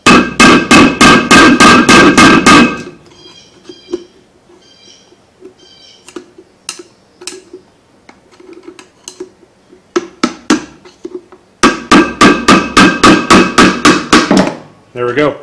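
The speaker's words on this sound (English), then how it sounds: "we're going to come in here and we're going to try to tap out our existing seal" A hammer taps out the old seal from a boat trailer wheel hub, with rapid sharp metallic strikes in two loud bursts at the start and end, plus scattered lighter taps and clinks between them.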